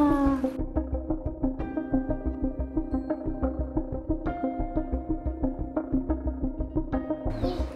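A cat meows in a run of repeated, tonal cries, fairly close, with light background noise and occasional knocks.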